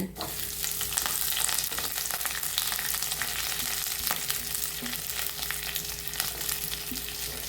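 Grated coconut roasting in a pan with curry leaves and two garlic cloves, producing a continuous moderate frying crackle with light stirring throughout.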